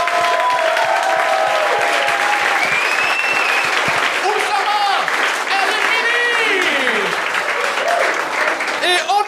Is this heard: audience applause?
yes